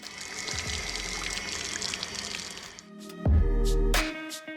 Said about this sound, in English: look at this floor-mounted tap.